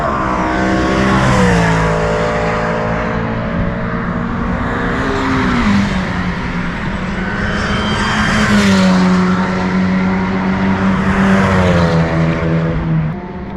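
A Seat Ibiza Cupra 1.9 TDI track car laps Donington, its diesel engine heard from inside the car, rising through the revs, dropping at each gear change, then climbing again, loud and close.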